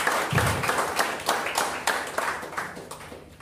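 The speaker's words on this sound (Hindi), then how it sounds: "चलिए एक बार जोरदार तालियां।" Audience applause at a talk or seminar, a crowd clapping hard together in a dense, steady patter of many hands that keeps going without a break.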